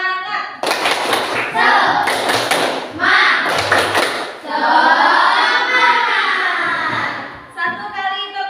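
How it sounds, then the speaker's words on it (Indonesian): Schoolchildren clap in unison in a tepuk semangat routine, with loud, close group claps in short rhythmic bursts, and a teacher and children calling out and chanting between them. "Anak-anak agar lebih semangat lagi, kita tepuk semangat ya"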